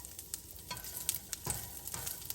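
Garlic frying in a pan for special fried rice alongside Chinese sausage, a close sizzling hiss broken by scraping stirs and small spatula knocks.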